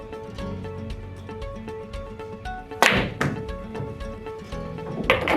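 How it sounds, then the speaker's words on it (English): Billiard balls in a standard three-rail reversing bank shot on a pool table, a sharp cue-ball strike followed by a second clack and a softer knock near the end, close and clear over a faint steady background hum. "It is a standard 3-rail reversing bank shot."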